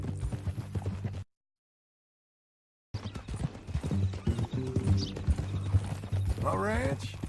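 Steady clip-clop of horse hooves on hard ground in Red Dead Redemption 2 under a continuous low hum, with a brief cut to silence, then a horse's whinny near the end.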